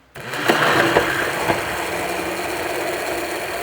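A kitchen blender whirs steadily, mixing chikoo juice with powdered jaggery and dry fruit powder. It starts abruptly, then runs as a continuous buzzing motor hum with a few brief knocks near the start.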